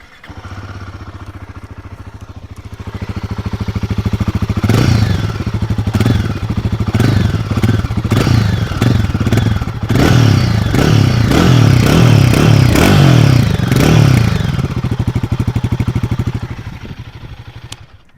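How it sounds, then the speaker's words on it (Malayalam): Royal Enfield Guerrilla 450 roadster, a Himalayan-based 450 cc single, idling with a steady thump, then revved repeatedly in sharp throttle blips before settling back to idle, loud and close with no talk. "ഇനി നമുക്ക് ഇതിന്റെ എക്സോസ്റ്റ് നോട്ട് കാര്യങ്ങളൊക്കെ കേൾക്കാം."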